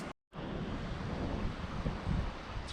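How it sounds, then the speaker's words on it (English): Steady wind rushes and buffets the microphone outdoors by the New River, a constant roar with gusts, after a brief moment of silence at the start. "It's pretty windy today."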